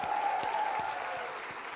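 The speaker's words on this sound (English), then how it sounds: "ask for another round of applause for Zeta, the musician who started our evening off" Audience applause for a local musician who opened an evening event, a steady wash of clapping that sounds moderately distant and holds even throughout, with no voices over it.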